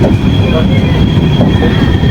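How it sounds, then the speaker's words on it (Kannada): A passenger train running on the rails through India, heard from inside as a loud, steady rumble and roar with faint rhythmic wheel clatter and a thin high whine, continuous throughout. "ನಮ್ಮ ಟ್ರೈನ್ ಎಷ್ಟು ಚೆನ್ನಾಗಿ ಹೋಗ್ತಾ ಇದ್ದೀವಿ"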